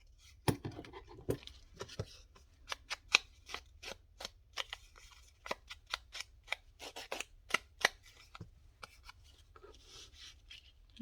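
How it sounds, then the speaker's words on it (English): Scissors cut paper for a junk journal in a string of crisp, close snips, irregular in rhythm with brief pauses and soft paper rustling between cuts. "Actually, I think I'm going to cut this straight across."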